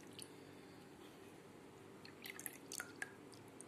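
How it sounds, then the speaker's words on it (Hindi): Raw liver is washed by hand in a bowl of water, giving soft, scattered drips and small wet splashes that grow busier toward the end, all very quiet and close. "अब देखिए ये सेकेंड जो बॉल है दूसरे पानी में मैं धो रही हूँ, इसको वॉश कर रही हूँ"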